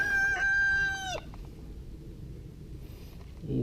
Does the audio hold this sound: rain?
no